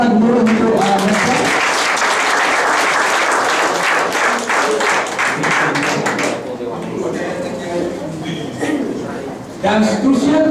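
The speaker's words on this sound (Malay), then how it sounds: "Jadi bagi satu tepukan murah untuk mereka." Audience applause at a Malaysian awards segment honouring top income earners, steady clapping that gradually thins near the end, with voices mixed in underneath.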